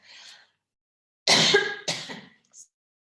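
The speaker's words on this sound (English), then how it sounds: "Excuse me, I have to cough." A single person coughs and clears their throat, a short rough burst followed by a second, close and alone in an otherwise quiet room.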